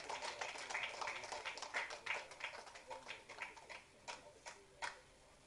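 An audience applauds to honour volunteers at a public appreciation event, a run of sparse, steady claps that thins toward the end into a few scattered isolated claps.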